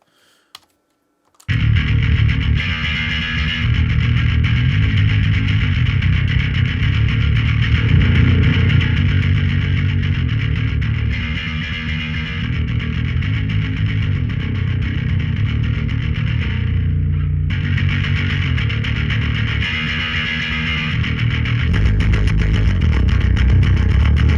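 A bass guitar tone pushed through a distortion effect while it is being dialed in, thick, buzzing and sustained for over twenty seconds with a steady loud level and only slight dips, with no voices.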